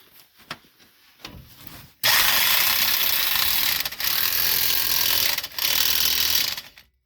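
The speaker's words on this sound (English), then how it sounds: "you have to hold this side still, and then you can tighten the nut" A nut being tightened on a strut of a Subaru hot rod during a clunking-noise repair: a few soft clicks, then a loud, continuous ratcheting buzz in two long runs, close by with no talk.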